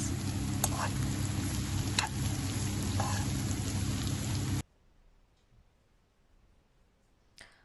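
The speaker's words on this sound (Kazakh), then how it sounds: "Сәбізімізді қосамыз, енді жақсылап араластырып қуырып аламыз." Finely chopped carrots fry in a pan with a dense, crackling sizzle and occasional sharp pops for several seconds, then cut off abruptly to near silence with one small clink.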